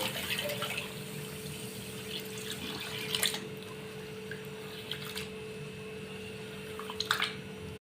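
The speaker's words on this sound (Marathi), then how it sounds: "आता आपण भगर धुवून घेऊया" Water sloshes and trickles steadily as millet grain is rinsed by hand, with a few sharper splashes and clinks along the way.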